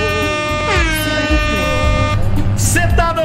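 Truck air horn honking in Euro Truck Simulator 2, a loud sustained blast with falling tones, sounding over engine rumble and a voice speaking.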